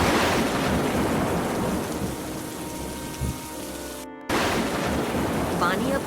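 Heavy rain pours steadily in a dense, hissing downpour, with a low rumble of thunder beneath it and a brief dropout midway.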